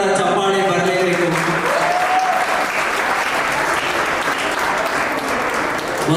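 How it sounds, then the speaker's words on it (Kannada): Sustained audience applause at a Karnataka state award ceremony fills the whole stretch, steady and fairly loud, with a faint voice and tonal sounds briefly audible beneath it early on. "ನಿಮ್ಮೆಲ್ಲರ ಜೋರಾದ ಚಪ್ಪಾಳೆ ಬರಲೇಬೇಕು."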